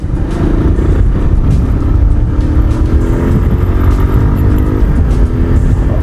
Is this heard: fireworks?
no